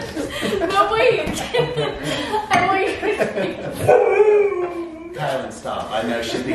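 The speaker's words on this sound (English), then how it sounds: "That's just my dog." A pet dog howls and yips indoors during a casual home recording of baking a pie blindfolded, its drawn-out wavering cries tangled with close talking and laughter throughout.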